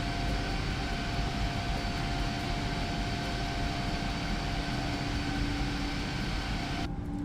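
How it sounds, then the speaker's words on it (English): An airliner departing Jacksonville's runway 8 in a flight simulator, a steady, loud jet engine roar with a constant whine that holds throughout and cuts off abruptly at the end. "That was an incredibly smooth departure from JAX."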